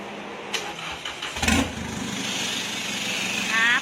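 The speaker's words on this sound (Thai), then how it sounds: "ตอนนี้เดี๋ยวเราจะติดสตาร์ทเครื่องให้ฟังเสียงหน่อย" A starter cranks briefly, then the diesel engine of a 1990s Toyota Mighty-X pickup catches and settles into a steady rumbling idle that grows slightly louder near the end.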